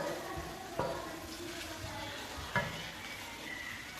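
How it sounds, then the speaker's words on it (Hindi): Onions sizzle and crackle in a hot pan with a steady frying hiss, cooking to light brown, while a utensil stirs and scrapes a couple of times. "प्याज हल्का सा फ्राई हो गया।"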